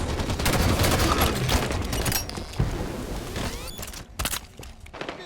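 Dense, sustained gunfire and explosions in the Halo 5 game on the snowy Snowmound multiplayer map, a loud continuous barrage that thins toward the end into a few separate bursts.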